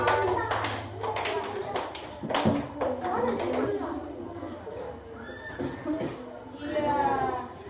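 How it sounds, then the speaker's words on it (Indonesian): A school class group claps, with a quick run of sharp hand claps near the start. Children's voices and chatter then carry on over a noisy room. "Beri tepuk tangan dari kelompok."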